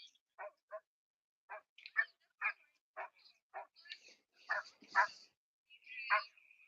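A fluffy chow-type dog barks outdoors in freezing, zero-degree weather at a street protest, giving a run of short, fairly faint yips and barks in an uneven rhythm, some of them close together.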